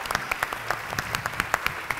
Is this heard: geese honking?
no